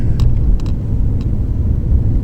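A Mercedes-Benz W205 C200 EQ Boost, a 1500cc turbocharged mild-hybrid sedan, accelerates at highway speed. A loud, steady low rumble of engine and road fills the cabin, with faint brief ticks above it and no talking.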